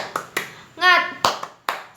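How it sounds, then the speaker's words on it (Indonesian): A teacher leads a rhythmic spirit-clapping routine, with a few sharp, spaced hand claps broken by a short sung or chanted voice in the middle. "Kita tepuk semangat dulu ya."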